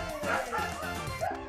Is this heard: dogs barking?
yes